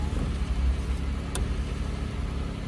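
A 6.0L Chevrolet Caprice engine running just after start-up, a steady low rumbling idle with a slightly uneven, shaky tone, close and continuous with no talking.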